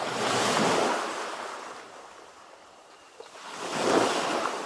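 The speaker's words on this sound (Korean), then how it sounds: "점점 크게 들려오며 화면이 하얗게 밝아집니다. 세상의 모든 소음이 사라지고 오직 파도 소리만이 당신의 귓가에 남습니다." Ocean waves and surf, two broad washes of foamy rushing water swelling and fading, the first dying down to a quiet lull before the second rolls in loud and close.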